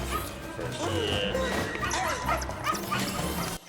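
Dog barking and whimpering in an animated robot-vacuum story, with rapid yips and whines mixed with crashing effects and music, with a brief pause near the end.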